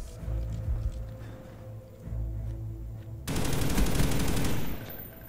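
An HK21 light machine gun fires in Call of Duty: Black Ops. Faint distant shots come first, then a loud, sustained rapid burst lasts over a second.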